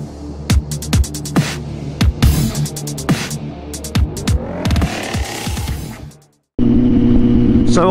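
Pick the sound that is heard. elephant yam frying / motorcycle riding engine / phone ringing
motorcycle riding engine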